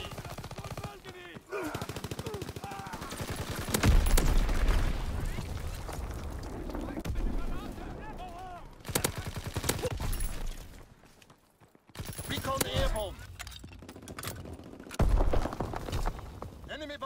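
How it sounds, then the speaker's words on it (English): In a WW2 video game, loud bursts of machine-gun fire and heavy explosive thuds, such as mortar rounds, come in waves with brief lulls between them, while in-game voices call out over the combat. "Enemy mortar fire incoming!"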